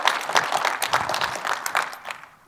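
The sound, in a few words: audience applause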